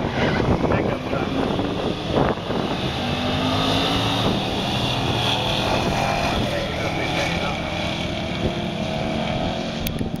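A 1972 Ford F100 pickup and a 2006 Mustang run a drag race at a strip, giving a loud, continuous engine roar that holds for the whole stretch as an announcer talks over it.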